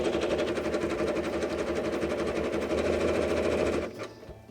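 A sewing machine stitches zigzag over fabric-wrapped rope in a fast, steady rattling run, close and loud, stopping abruptly near the end.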